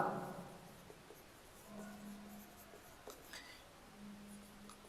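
Pen scratching steadily across paper while working through a cash journal entry for an accounting lesson, soft close scribbles with brief pauses, a faint hum in the background and no talking.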